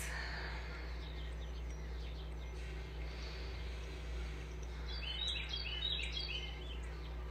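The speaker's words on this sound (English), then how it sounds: "Hear my birds?" Faint bird chirps and twitters sound from a distance over a steady low hum, with no talking.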